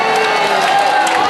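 A large studio audience claps and cheers steadily and loudly, with whoops rising through the dense crowd noise, which holds a fairly even level from start to finish.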